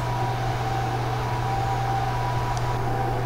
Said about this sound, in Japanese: これを電子レンジで1分加熱します。